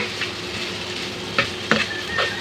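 Onion frying in a pan to light brown, with a steady broadband sizzle and a few sharp stirring scrapes near the end, alone and close.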